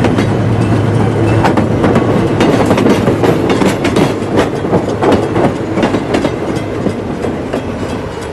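A train rumbles steadily past close by, wheels clattering in a continuous clickety-clack over the rails, loud and unbroken.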